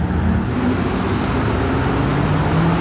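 A modified car accelerates nearby at a gathering of tuned supercars, a loud, steady engine roar with road and traffic noise behind it and no talk.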